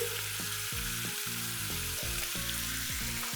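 Sea scallops and shrimp seasoned with salt and pepper fry in a pan for a saffron-sauce dish, giving a steady, even sizzle throughout with no talking.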